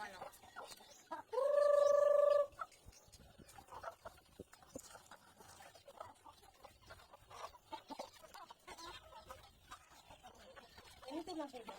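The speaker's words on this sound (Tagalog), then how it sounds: "Halika at magpapakain tayo ng mga manok." Chickens being fed, with one loud drawn-out rooster-like call up close near the start, followed by softer scattered clucks and scratching in the background throughout.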